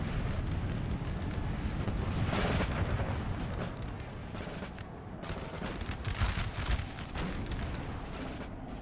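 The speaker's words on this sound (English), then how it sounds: "We just have some artillery and an Austrian general fighting here." Sustained artillery fire rumbles through a Napoleonic Total War battle involving Russian, Austrian and coalition armies, heavy booms and crackling volleys overlapping continuously at a steady, loud level with no pauses.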